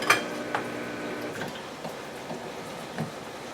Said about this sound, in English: I'm going to grab my blender here.